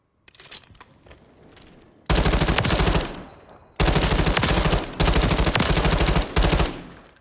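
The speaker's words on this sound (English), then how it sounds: "Fast rate of fire on this gun." MG36 light machine gun in Call of Duty Modern Warfare III, fired in long, loud, rapid bursts of several seconds each, with a short quieter spray before the first burst.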